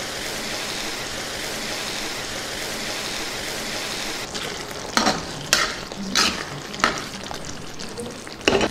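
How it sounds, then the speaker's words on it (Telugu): Eggplant and pea curry fries steadily in a pan with a constant sizzle, then a spoon stirs it in several loud, close scraping bursts over the second half. "ఒకసారి బాగా కలుపుకుందాం కాసేపు దీన్ని బాగా ఉడకనిద్దాం"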